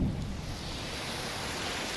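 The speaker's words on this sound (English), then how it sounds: "The rain going over my head." Steady, dense rainfall fills the whole stretch as a continuous wash of hiss, loud and enveloping, from a Nintendo Switch 2 Direct trailer, with no voices over it.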